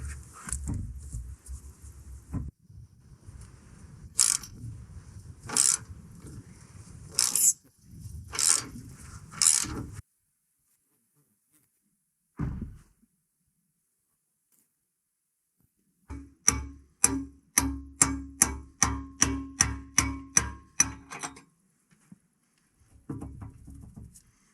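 Wrenches work loose the hydraulic hose fittings on an E50 machine with a grapple, giving scattered metallic clinks and scrapes and then a quick run of about a dozen even ratchet clicks, close and fairly quiet, with a silent gap between.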